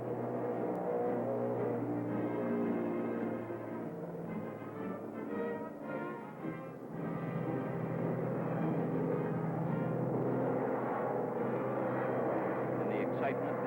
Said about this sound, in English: Crewmen cheered as one plane after another screamed down the swaying runway.